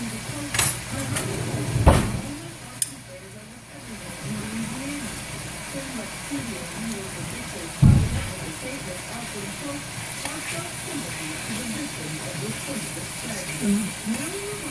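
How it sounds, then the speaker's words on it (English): Chicken sears in a hot pan, a steady close sizzling hiss running throughout with a few louder pops and clatters, while someone speaks over it. "Getting one side seared to a degree."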